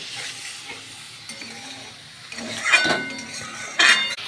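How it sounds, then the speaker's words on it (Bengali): Prawns fried with spice masala and a little water in a pan, a low sizzle with scraping stirs and clinking spoon strikes that grow louder toward the end. "এবার অল্প করে জল দিয়ে দেবো দিয়ে ভালো করে মশলাটা মাছটার সঙ্গে ভালো করে কষিয়ে নেব"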